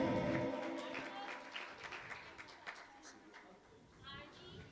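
Scattered clapping from an audience at a Jain temple's annual chariot festival celebration, fading under a speaker's voice as a brief burst at the start gives way to talk.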